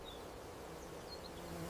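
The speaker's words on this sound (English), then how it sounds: "A third wasp approaches." A wasp buzzes steadily close to a fire ant colony, a continuous insect drone holding at an even level for the whole short stretch with no voices.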